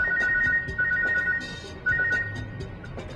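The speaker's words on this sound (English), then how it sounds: "I got a phone call from Seth Green" An incoming call rings as a phone ringtone, a repeating electronic tone pattern in short bursts, loud and close over a background rumble.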